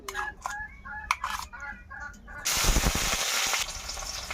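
Ginger, garlic and green chili paste hits hot oil with a sudden loud sizzle that settles into steady frying, after some quieter clucking and clatter beforehand.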